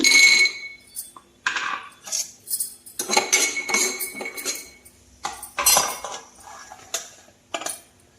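A small kadai is set down on a stove while preparing a cluster bean fry, giving sharp metallic clinks and clatters of cookware in irregular close bursts with short quiet gaps, and no talking.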